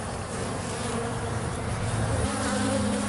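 Honey bees buzz loudly and close up around a hive, a dense steady drone with a shifting pitch and no voices over it.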